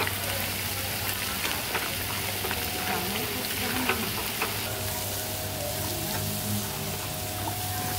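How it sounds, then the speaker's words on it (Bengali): Meat sautéing in a pan during slow cooking, giving a steady, close sizzle and crackle that runs unbroken for the whole stretch with no voices. "আরও কিছুক্ষণ আমি ঢাকা দিয়ে ভালো মতো কষিয়ে নেব"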